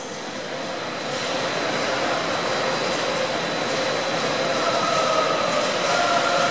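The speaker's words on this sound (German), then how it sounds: "Vorsicht an den Türen und bei der Abfahrt des Zuges." Class 182 electric locomotive 182 507 hauling intercity train IC 119 as it departs a busy platform at Köln Hbf, a loud broad rumble of motor and wheels swelling steadily, with a faint rising tonal whine emerging near the end.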